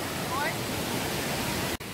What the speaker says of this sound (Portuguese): Essa cachoeira fica pertinho da pousada.